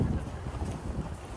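Cold wind gusts steadily across snowy outdoor steps in Korea at about minus seven degrees, a constant low buffeting rumble pressing on the microphone, fairly loud with no voices.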